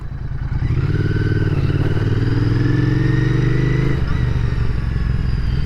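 A Royal Enfield Interceptor 650 motorcycle being ridden, its engine loud and close with a steady droning tone that rises in pitch as it accelerates, then eases off near the end.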